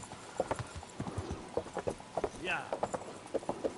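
Horse hooves in a video game, Kingdom Come: Deliverance, clop rapidly and rhythmically in a steady galloping beat, close and clear.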